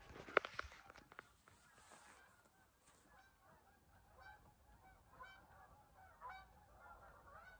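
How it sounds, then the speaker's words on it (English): Geese honk repeatedly in a flock flying past a house, a scattered series of faint, distant calls over low outdoor rumble. "a flock of geese just went flying past our house"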